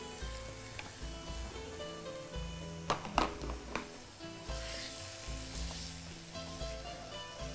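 Spinach sautéing in a pan on a cooking show, a steady sizzle with a brief burst of taps and scrapes midway as a mixture is poured in and stirred.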